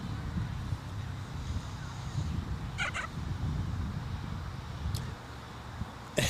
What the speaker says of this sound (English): That was a cockatoo that actually has a car security system on it.